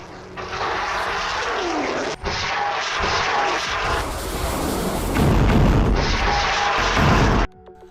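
A missile blast hitting a parked car, a sustained loud roaring rumble with crackling debris that swells into a heavy burst and then cuts off abruptly.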